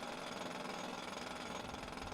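Steady jackhammer pounding, a continuous rapid hammering rattle that stays fairly faint and unbroken for the whole stretch with no talk over it.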